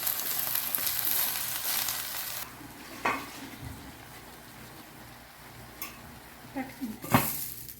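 Chopped Malabar spinach (bachali) leaves frying in a pan for a tomato curry, giving a steady soft sizzle with a few stirring clatters near the end.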